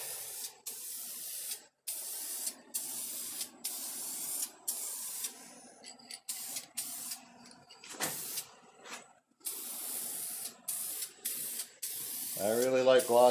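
Aerosol spray paint, ACE Rust Stop, hissing onto a 1957 Chevy 210 in repeated bursts of a few seconds with short gaps, close and steady, with brief clunks and a short rising mechanical whine near the end.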